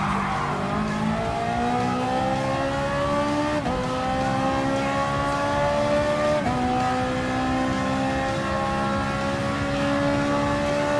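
A Gran Turismo Sport race car at Monza drones loudly as it brakes through a chicane, its engine pitch sliding down with two distinct downshift blips, continuous and close with no talking.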